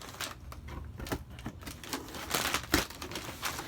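A blade cutting through a cardboard box holding a mini fridge, making quiet, scratchy, crinkling rasps in short irregular bursts, close by and without speech.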